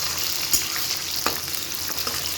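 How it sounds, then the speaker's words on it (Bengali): Chopped onions fry in a hot pan with a continuous crackling sizzle and a couple of sharp stirring clinks, close-up and alone. "পেঁয়াজ কুচিগুলো দিয়ে দিয়েছি, এবার ভেজে নেব।"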